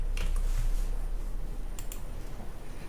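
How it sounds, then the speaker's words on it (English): Computer keyboard typing during a stock-trading walkthrough, a quick run of soft clicks and keystrokes heard close over a steady low background hum, with a couple of sharper taps near the end. "So just type in UWC."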